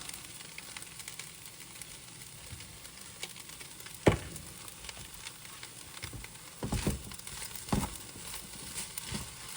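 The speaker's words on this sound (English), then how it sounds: "You're going to throw the shrimpies in there." Shrimp sizzling in a hot pan for fried rice, a steady quiet fry with a few sharper pops and scraping stirs near the middle and end, no talking.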